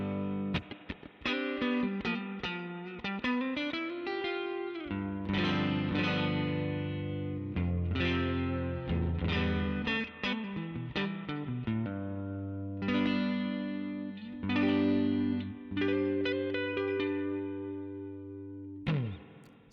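Fender Stratocaster on the neck pickup played through an FAS AX8 double verb amp model, clean sustained chords and single notes ringing with lush reverb, steady and close with no talking.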